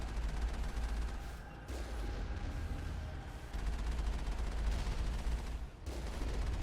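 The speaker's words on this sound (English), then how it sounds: "these rocket things are much more deadly than the other ones are in the game. Because they fire so fast" Rapid-firing rockets in Mass Effect, heard as a dense, continuous stream of fast shots over a deep rumbling low end, with brief dips before the barrage resumes.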